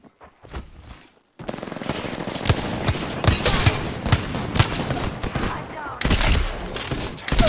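Rapid bursts of automatic gunfire in the shooter game Apex Legends, Caustic in the Inmate Nox skin, loud and dense after a brief quiet start, with shots and impacts clattering continuously and a heavier burst near the end.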